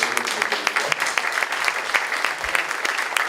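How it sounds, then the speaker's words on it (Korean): A congregation at a thanksgiving service in Seoul claps for those introduced, brisk, dense applause from a seated crowd sustained across the moment. "박수로"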